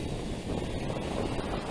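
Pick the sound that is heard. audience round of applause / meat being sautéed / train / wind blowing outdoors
wind blowing outdoors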